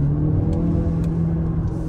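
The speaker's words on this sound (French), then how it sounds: "Alors ça monte ça pousse vraiment fort, c'est impressionnant, mais ce qui est dommage, c'est la sonorité du moteur qui gâche un peu le truc." A DS7 E-Tense 4x4 360 plug-in hybrid SUV accelerates hard, its engine giving a low, steady droning hum with a sustained tonal note, heard from inside the car with no talk.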